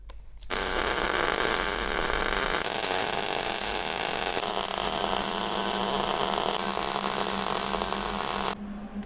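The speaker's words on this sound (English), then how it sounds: "So I'll set you guys up and get these welded on." A small, low-powered welder lays beads joining thick steel brackets to a car's front end, a steady close crackling buzz running unbroken for about eight seconds before cutting off.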